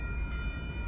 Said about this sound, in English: Union Pacific added a new bell.